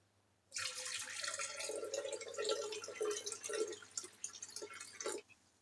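Water, 320 grams for a citrus syrup, pours into a mixing jug in one steady splashing stream lasting about five seconds, close and clear, then stops.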